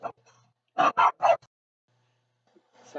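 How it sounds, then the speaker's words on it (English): Small dog indoors barking at someone outside: a short yip, then three quick, sharp, loud barks close by, followed by a near silence and faint rustling. "It's my little dog going to town there because somebody was outside."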